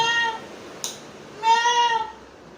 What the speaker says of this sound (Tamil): என்ன பூனை பதில் சொல்லுது